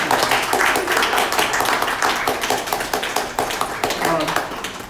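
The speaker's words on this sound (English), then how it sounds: "why don't we give them a round of applause?" An audience at a gallery claps for several seconds, a moderately loud patter of many hands that stays fairly even, with some talk mixed in.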